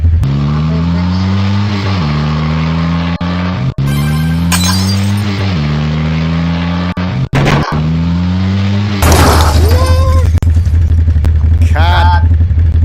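Video game car engine whining in repeated rising revs through gear shifts, punctuated by crashes and glassy impacts, then a steadier loud drone with a voice speaking over it near the end.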